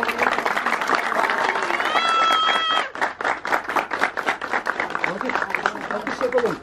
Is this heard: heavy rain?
no